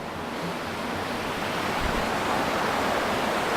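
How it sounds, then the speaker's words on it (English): A waterfall at DeSoto Falls gives off a steady, dense rushing roar of falling water, loud and unbroken throughout. "I'm down here actually by the waterfall"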